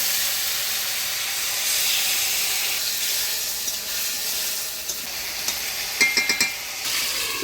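Squash sizzles in a pan as it is stirred with ginger, cumin and green chili paste, a continuous frying hiss joined late by a short run of quick utensil scrapes and clinks.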